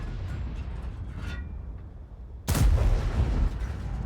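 A tank destroyer's cannon fires once in a tank video game, a single sudden loud blast that bursts in after a stretch of low engine rumble and then rolls off into a lingering roar.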